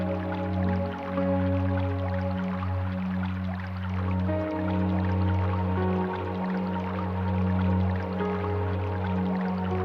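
Water drips and trickles down a domestic salt waterfall in a steady, continuous patter with a constant low hum beneath it. The sound is close and even, with no talking.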